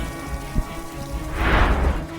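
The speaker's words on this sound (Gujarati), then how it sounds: "વહેલી સવારથી હળવાથી મધ્યમ ઝાપટા બાદ મન મૂકીને મેઘરાજા વરસ્યા" Heavy monsoon rain pours down in the coastal Gir Somnath area, a dense steady hiss that swells louder midway, with no voices.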